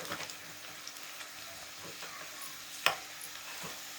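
Onion, dried red chillies and curry leaves fry in oil as a tempering for fenugreek-leaf dal: a soft, steady sizzle runs throughout, stirred quietly, with one sharp tick of a spoon partway through.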